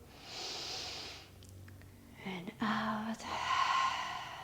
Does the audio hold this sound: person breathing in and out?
yes